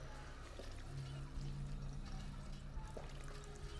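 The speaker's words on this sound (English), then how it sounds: "Let me sip on the water fountain for a little bit" Water trickling from a drinking fountain in the video game Fallout 4, a faint continuous splashing flow with a low steady hum beneath and no talk.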